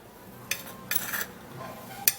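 A spoon clinks and scrapes against a bowl in short bursts while stirring ingredients, with a few sharp taps standing out in a quiet room.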